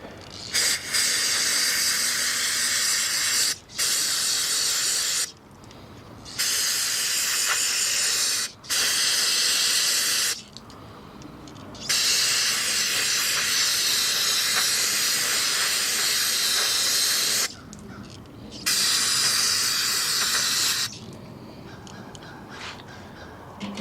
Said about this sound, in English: Dry it out with some carb cleaner.